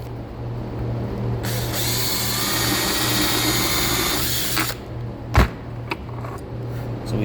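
A power drill bores holes through a worn leather belt in a workshop, running as one steady whirring stretch for a few seconds, then cutting off and leaving a quiet room with a few small clicks.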